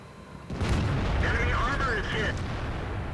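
An M48A1 Patton tank cannon fires in a combat video game: one heavy boom at the start that rolls into a long rumbling decay while someone talks over it.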